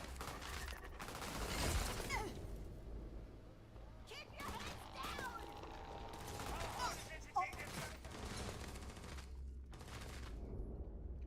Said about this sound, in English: Are you guys really shooting at my pet?